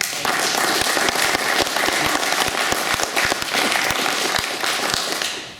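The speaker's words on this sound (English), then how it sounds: "if you could give him a round of applause" Audience at a Labour for Independence talk breaks into steady, dense applause from a room full of people, loud and sustained before tapering off at the end.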